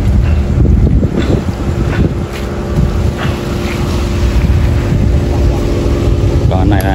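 A boat engine runs steadily and loudly outdoors as a tens-of-tonnes wooden cargo boat is slowly hauled up onto the shore, with wind buffeting the microphone and voices talking over it.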